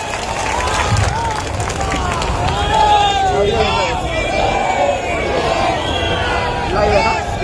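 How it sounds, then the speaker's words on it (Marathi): Crowd at a political rally at Shil Phata claps and cheers in a loud, sustained wash of applause and shouting, with voices rising through it. "टाळ्या होऊन जाऊ द्या।"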